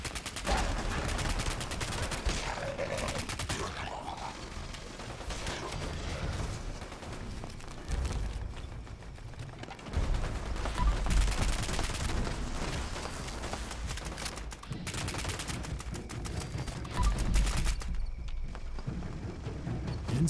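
Rapid rifle gunfire from a handmade rifle in Fallout 76, with loud bursts and repeated shots running through most of the stretch over game noise, no voices present.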